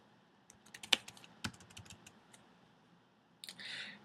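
Typing on a computer keyboard, with a scattered run of light key clicks and a few sharper taps close by, then a short rustling burst at the end, with no talking.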